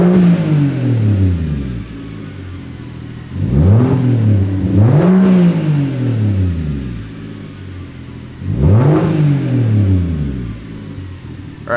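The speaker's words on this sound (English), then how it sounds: "I'm going to go ahead and rev it a little bit so you guys can see the latency" A BMW car engine idling close by and revved three times, each blip rising sharply and falling back to a steady low idle rumble, with no talking.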